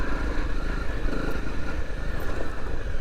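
A Honda CRF250 Rally motorcycle rides across Salisbury Plain with a continuous buzzing engine note, rough wind and track noise mixed in, loud and close throughout.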